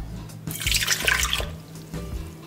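Lukewarm water is poured into a bowl holding yeast and sugar, giving a short, close splashing pour with a few drips that lasts about a second.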